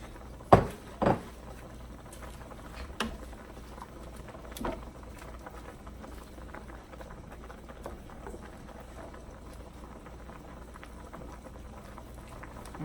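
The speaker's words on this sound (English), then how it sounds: "our sauce has been simmering for a couple minutes" Creamy Tuscan sauce simmering in a pan before spinach leaves go in, a soft, steady bubbling patter with a few clunks near the start, close and quiet, no talk.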